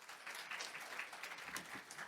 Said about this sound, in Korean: 우리 힘찬 박수로 또 이 시간 하나님 영광 받으시라고 힘찬 박수로 환영하며 맞아드리겠습니다.